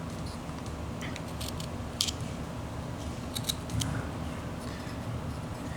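Knife whittling wood for an abstract flat plane figure: quiet, close little cuts and snips, a few crisp slices clustered together over a soft room hiss.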